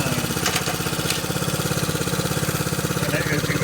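A 1969 Honda CT90 motorcycle engine idling fairly fast, a close, loud, rapid rhythmic putter with a steady beat throughout.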